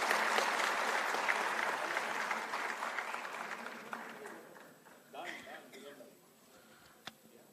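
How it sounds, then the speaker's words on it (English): Seminar audience of about two hundred people applauding together, a dense broadband wash of clapping that holds loud for several seconds, then thins out and fades, leaving scattered claps and faint room noise. "Can I hear 200 claps, please?"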